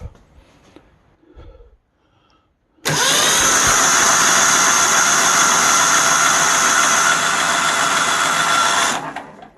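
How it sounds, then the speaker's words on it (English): A Troy-Bilt GTX 20 engine is cranked by its starter motor wired to a battery: after a few seconds of quiet handling noises, a loud, steady, whirring crank runs for about six seconds, close up, then stops. "I have this battery here, and I have everything hooked up to the starter"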